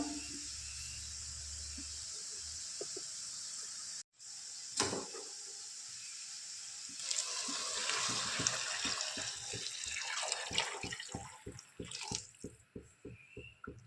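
Hot water poured into a cooking pot while making rice-flour dhokla, a steady broadband splash and trickle that swells midway, with faint clinks and dripping taps near the end, close and alone with no talk.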